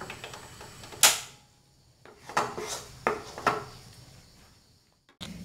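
Kanthari chilli pickle is moved from one cooking pot into another, producing a few sharp spoon-on-metal clinks and scrapes at irregular intervals, close and fairly loud, with a final clatter and no talk.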